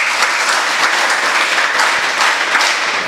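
Steady applause from a school event audience in Hebri, dense and even throughout without any voices.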